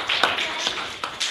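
A few scattered hand claps at a children's Christmas celebration at a dance studio, sparse and crisp in an uneven rhythm, fairly light rather than full applause.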